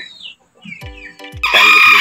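Texas gamefowl roosters and hens in a breeding pen give sharp, close clucks and short calls, ending in a louder burst of crowing.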